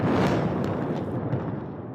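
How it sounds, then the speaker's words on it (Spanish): A nighttime explosion in Beirut sounds as a loud, broad boom and rumble that decays slowly over about two seconds, with some crackle early on. "una explosión rompe el silencio"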